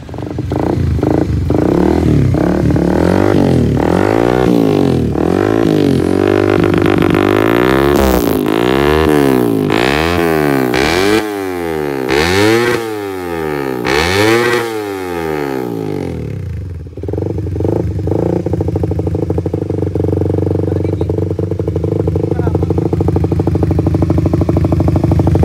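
A Suzuki Satria FU FI motorcycle built for road racing runs close by, rising and falling through repeated sharp revs from a rough idle, then settling back to a steady idle after a brief dip.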